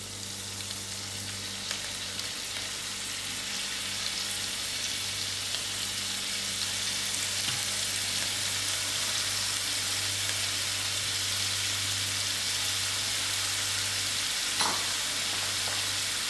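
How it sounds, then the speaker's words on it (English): Steady, crackling sizzle of ginger and paneer frying in a hot pan, continuous and close, with an occasional faint clink. "while the ginger is frying out, I'm going to put in my paneer."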